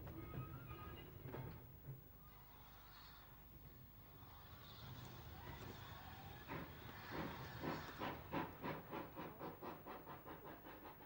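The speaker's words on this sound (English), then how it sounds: "The pannier seen shunting here was a visitor to the Severn Valley, 5775 from Keighley." Pannier tank steam locomotive 5775 shunting on the Severn Valley railway, with hissing steam and a rapid, strengthening series of rhythmic exhaust chuffs building toward the end, clear and fairly near, no talk.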